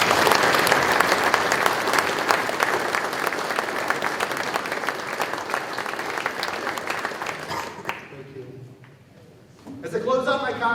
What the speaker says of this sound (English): Please join me now in giving a round of applause to Charles and Eric.